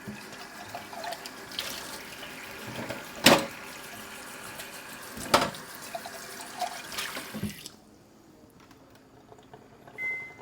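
Water runs from an alkaline water dispenser for several seconds, a steady wet stream with a couple of sharper splashes, then stops abruptly near the end, leaving quiet room tone.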